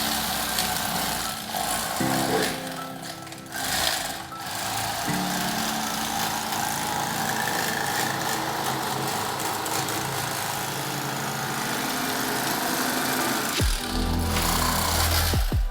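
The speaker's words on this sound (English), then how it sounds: "I've shown you with the electric knife" An electric fillet knife cuts through the rib bones of a walleye with a steady buzzing motor drone. The pitch shifts as the blade loads and eases, and no one speaks.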